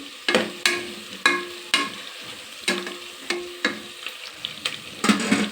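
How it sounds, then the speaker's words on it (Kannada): Eight to ten green chilies roast in oil, a soft frying crackle punctuated by a regular series of sharp scraping or tapping strokes from stirring, close and fairly quiet. "ಒಂದು 8-10 ಮೆಣಸಿನ್ಕಾಯಿ ತಗೊಂಡಿದ್ದೀನಿ. ಎಣ್ಣೆಲೆ ಚೆನ್ನಾಗಿ ಇದು ರೋಸ್ಟ್ ಆಗಲಿ."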